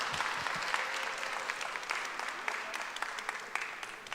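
A church worship audience applauds a diabetes talk, a dense, sustained clapping from many hands with sharper individual claps popping out, steady and moderately close with faint voices underneath.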